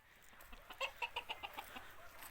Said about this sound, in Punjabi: ਇਹ ਕੁੱਕੜ ਹੈ ਵੀ ਬੜਾ ਚੰਗਾ ਕੁੱਕੜ ਹੈ